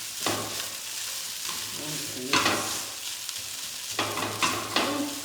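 Potatoes and mixed vegetables sizzling in a pan for an omelette, with repeated scraping stirs breaking through a continuous fry at close range.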